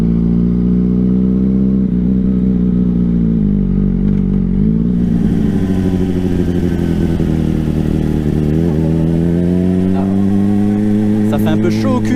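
A motorcycle ridden on a sunny road, its engine droning steadily with a rising note as it pulls away, wind rumble underneath and a few clattering ticks near the end, with someone talking over it.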